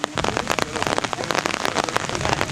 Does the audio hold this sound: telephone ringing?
no